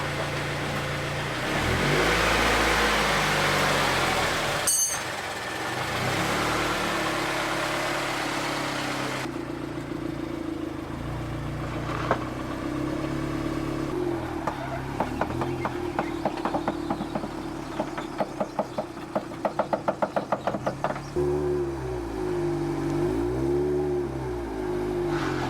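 A lowered Scion FR-S on coilovers and wide wheels drives along with its rear tire rubbing; a steady engine drone rises and falls with revving, and a rapid series of rhythmic scraping pulses comes through in the middle stretch.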